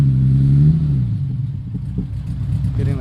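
A car's V8 exhaust rumbles loudly nearby, starting in a deep steady drone that drops as the revs fall, then settles into a rough idle with some clatter.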